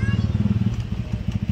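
A motorcycle being ridden, its engine putting out a steady low rhythmic chugging throughout, fairly close and continuous.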